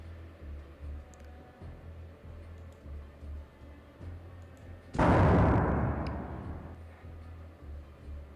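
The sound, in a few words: grenade explosion in a video game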